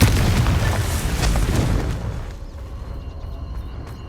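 A Confringo spell explosion in Hogwarts Legacy: a loud, rumbling blast that roars for about two seconds, then dies away into a faint crackling tail, with no voices over it.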